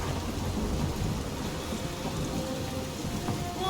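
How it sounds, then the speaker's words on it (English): A thunderstorm in the video game Marvel's Guardians of the Galaxy: heavy rain hisses steadily, with a low rumble of thunder running beneath the downpour throughout. "That is some really crazy lightning out there!"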